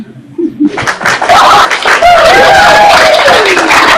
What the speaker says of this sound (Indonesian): tepuk tangan buat anaknya host